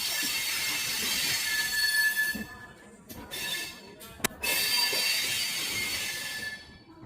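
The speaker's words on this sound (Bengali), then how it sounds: "আমাদের ট্রেন ঢুকছে প্রয়াগরাজ জংশনের" Netaji Express, with LHB coaches, pulling into Prayagraj Junction, its wheels letting out a loud, sustained high-pitched squeal that persists almost throughout, briefly broken by a couple of sharp clanks near the middle.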